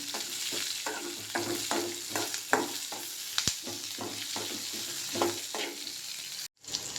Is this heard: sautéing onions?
yes